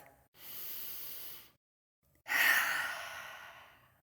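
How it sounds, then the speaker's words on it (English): A deep breath in and out, two long airy breaths separated by a short pause, close and clear with no talk, before a tarot reading at a Scorpio new moon circle. "I'm going to take a deep breath."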